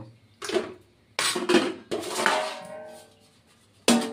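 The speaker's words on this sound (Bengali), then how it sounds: "ঠিক আছে বন্ধুরা, এবার ঢেকে দেব" A lid is set onto a kadai of lentils and bottle-gourd greens, producing several separate metallic clanks and rattling rings that die away between them, close by with no voices.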